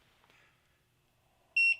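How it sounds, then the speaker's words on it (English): One short, clear electronic beep near the end from a 4x4 video matrix finishing its power-on self-test, loud and steady, after near silence. "you'll hear a beep when it finishes that"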